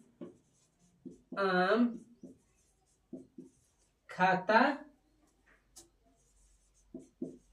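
Chalk or marker writing on a board during a Hindi grammar lesson, faint scratches and taps in the pauses between a teacher's spoken explanation.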